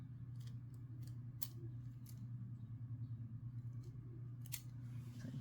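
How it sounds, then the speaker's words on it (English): Scissors snip bracelet cord near the knot, a few crisp, close cuts over a steady low hum from a passing car, with no talk. "Now we're gonna cut it off as close to the knot as you can"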